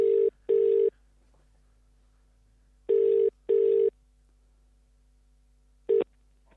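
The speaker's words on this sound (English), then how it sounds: "Dialing in Elon." Telephone dialing tones sound as paired beeping bursts, two pairs of steady tones followed by a short final beep, clear and alone with no talking.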